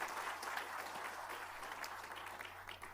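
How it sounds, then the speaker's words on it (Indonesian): Congregation applauding God during a Christian church sermon: a steady wash of clapping from a large crowd, moderately loud and sustained throughout, with a low hum beneath. "Tepuk tangan yang keras buat Tuhan"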